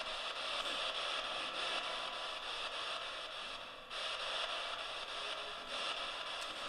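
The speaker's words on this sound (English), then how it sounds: "A little more white noise?" Steady hiss of white noise from a radio device fills the whole stretch, loud and continuous, with a brief dip midway, in a reportedly haunted house during a live paranormal investigation.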